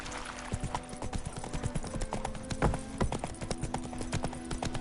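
Horse hooves clip-clopping at a steady gait in The Witcher 3, a continuous close rhythmic patter of hoofbeats with a couple of heavier thumps, no talking.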